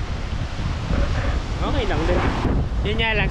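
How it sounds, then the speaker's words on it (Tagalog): Strong wind roars across the microphone on a beach at Paninap in Real, Quezon, a steady heavy buffeting with surf beneath, while people talk over it. "Medyo malakas yung hangin talaga dito."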